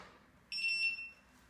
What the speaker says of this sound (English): now you've just heard the beeping and it says it's connected.